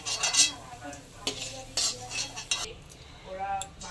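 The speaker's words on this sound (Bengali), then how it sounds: "এবার তেল ঝরিয়ে তুলে নেব" Fried palm-fruit fritters lifted out of hot oil with a metal slotted spoon: scraping clinks against the pan and bursts of sizzling oil, close and fairly loud, coming in irregular strokes.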